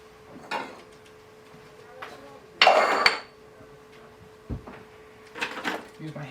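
Food being dumped out of a Homtone food processor bowl: a loud clattering burst of plastic bowl contents tipping out, with lighter knocks and taps before and after, and a voice talking in the room.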